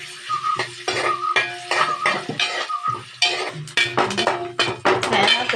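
Thin coconut slices fry in coconut oil in a pan, heard as repeated loud metal scraping and clinking strokes over a soft sizzle, close and rhythmic throughout.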